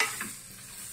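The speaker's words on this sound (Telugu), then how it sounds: "మరొకసారి కలుపుకుందాం" Mutton fry with fresh coriander leaves being stirred in a pan: a soft, steady sizzle with a brief scraping stir near the start, close and fairly quiet, no voices.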